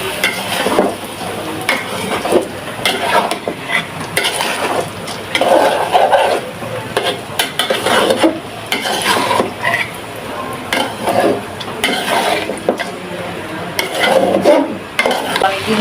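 Food is cooking in a pot at night, likely khichuri, and a utensil stirs and scrapes it in irregular bursts over a steady sizzle. Pan clatter comes close and fairly loud, with no one speaking.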